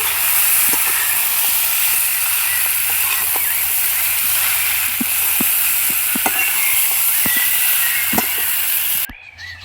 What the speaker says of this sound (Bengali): এবার ওর মধ্যে মিশিয়ে নেব আগে থেকে ভেজে রাখা ঝিনুকগুলোকে। এগুলো দিয়ে কিছুক্ষণ কষিয়ে নিতে হবে।